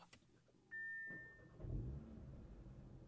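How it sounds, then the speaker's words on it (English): An Audi RS3's five-cylinder engine starting after a short delay, preceded by a steady electronic tone inside the car, then a low rumbling catch that settles into a quiet idle. "Little delay before the 5-cylinder cranked on"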